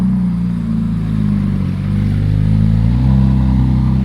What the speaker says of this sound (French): Ah ouais, c'est un bruit de V8.